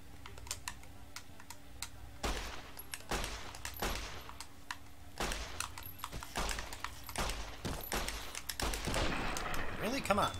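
Pistol shots in Fallout, Tale of Two Wastelands, a run of fairly faint, evenly spaced cracks mixed with steady computer keyboard typing and clicking close by, with the shots picking up toward the end.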